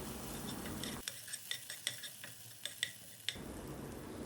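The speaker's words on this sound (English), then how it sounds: "we'll saute the onion, ginger, garlic until the raw taste goes away and they turn aromatic" Minced onion, ginger and garlic sauté over a medium flame, with a soft sizzle at the start and end and a run of sharp spoon-on-pan scrapes and taps in between, close and clear.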